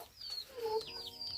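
Chickens in a backyard coop give a few soft clucks and short rising calls, fairly faint against a quiet background, with no one speaking.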